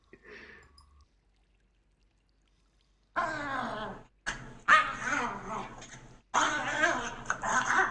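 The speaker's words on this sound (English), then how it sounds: "Doggo's fighting. And by fighting, I mean one bullies the other until he fights back." Small dogs fight in the ARK survival video game, trading sharp yips, whimpers and growly barks in several loud bursts after a quiet gap near the start.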